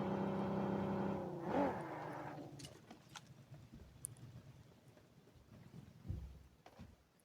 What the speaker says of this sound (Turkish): Oha araba geliyor bana.